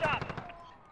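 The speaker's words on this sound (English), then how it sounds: "Was that you shooting at me?" Quick burst of gunfire in Call of Duty: Modern Warfare, several rapid close shots in under a second that fade into a short echoing tail.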